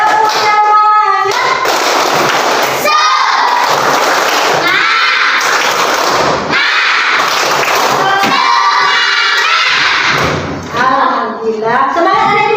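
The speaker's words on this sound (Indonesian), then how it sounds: "ayo kita tepuk semangat. Tepuk semangat." Schoolchildren in a classroom chant and clap together in the 'tepuk semangat' routine, with loud rhythmic bursts of clapping between shouted words and a teacher's voice leading.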